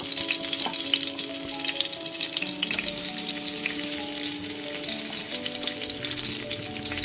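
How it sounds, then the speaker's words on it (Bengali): Steady, close sizzling of raisins frying in hot oil over a low gas flame, a continuous crackle with occasional faint clinks, no talking. "কিশমিশটা এখানে গ্যাসের ফ্লেমটা লোতে রেখে ভেজে নিয়েছি"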